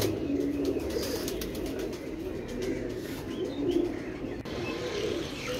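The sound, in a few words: pigeons cooing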